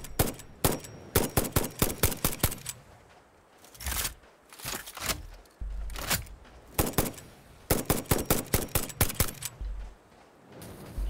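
Rifle gunfire in the factory-building game Satisfactory, rapid volleys of sharp shots in several bursts separated by brief pauses and reload sounds, loud and close.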